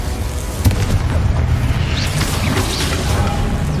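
A Confringo explosion spell in Hogwarts Legacy, a loud, dense fiery blast with a deep rumbling boom and crackling debris sustained for several seconds, close and full.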